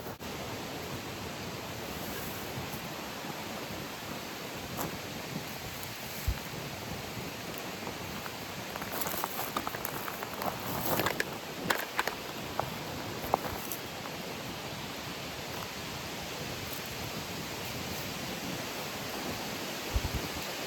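Wind blows steadily outdoors during bow drill fire-making with tulip poplar, a broad continuous rushing roar close to the microphone with occasional gusty buffets and faint rustling.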